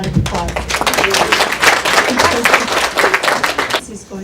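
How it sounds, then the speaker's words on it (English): Audience applause after a piano performance at a summer recital, dense steady clapping from a crowd in a hall lasting several seconds before stopping abruptly. "Give him another round of applause."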